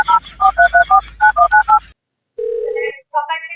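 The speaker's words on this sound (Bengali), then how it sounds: "দেন মোবাইলটা দেন, আমি ফোন লাগিয়ে দিছি।" A mobile phone being dialed sounds a quick run of about ten crisp keypad tones, followed by a steady connecting tone and a short electronic chime, all close and loud with no talk.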